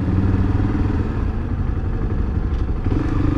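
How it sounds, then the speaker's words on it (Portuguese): A Honda XRE300 motorcycle engine-braking on a sharp curve drones steadily at a low rumble for the whole stretch, with light mechanical clatter and no voices. "Freio motor ajuda bastante"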